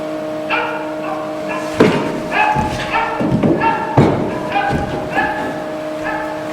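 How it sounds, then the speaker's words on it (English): Gun dogs bark in a stage musical performance: a run of sharp, loud barks and yips in quick bursts with thumps between them, all close and clear. "Gun dogs."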